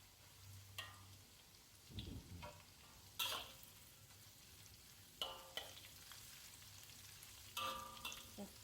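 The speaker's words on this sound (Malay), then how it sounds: "sekarang saya goreng ikan bilis. Tengah panaskan minyak dan goreng ikan bilis." Small anchovies crackle and sizzle in hot oil, with irregular pops and bursts of spattering, a few louder sharp crackles standing out.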